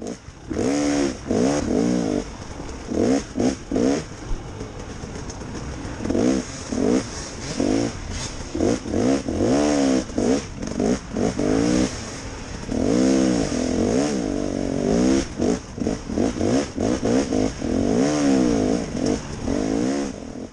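A dirt bike engine revs and surges repeatedly while riding through woods during an enduro sprint race, loud and close with rising and falling throttle bursts and clattering over rough terrain.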